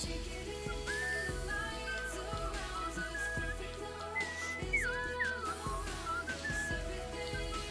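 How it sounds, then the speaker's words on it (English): A person whistles a wavering melody along to continuous background music from a Tetris game session, the whistling thin and intermittent, riding on top of the steady music without talk. "I realize I've been whistling along"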